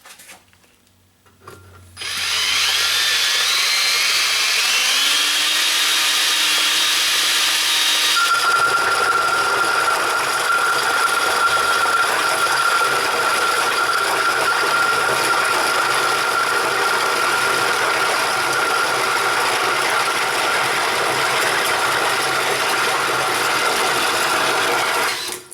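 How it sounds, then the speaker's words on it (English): Ingersoll Rand D5140 20V cordless drill boring a 4 1/4 inch hole through a 2x8 board, a loud steady grinding whine that runs continuously for over twenty seconds after a brief start, alone without talk. "I'm going to go ahead and drill a 4 1/4 inch hole through this 2x8"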